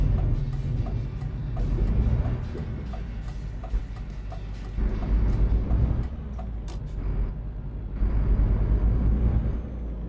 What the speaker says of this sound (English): Truck has some get up and go when it don't got a trailer on it.